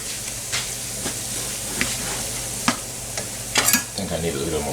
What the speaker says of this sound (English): Maybe add a little bit of more oil in here. Let that cook up for a little.